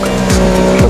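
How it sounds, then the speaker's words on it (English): A race car in a formula racing video game slides with short tire squeals over a steady, loud engine drone, two brief squeal sweeps close together. "Ethan had a slide there coming off the bridge"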